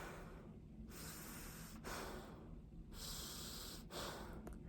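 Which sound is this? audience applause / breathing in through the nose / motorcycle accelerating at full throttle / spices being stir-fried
breathing in through the nose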